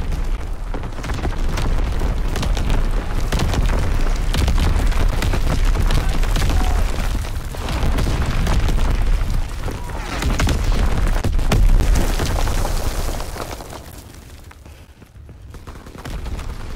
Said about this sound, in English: Firing battery bomb.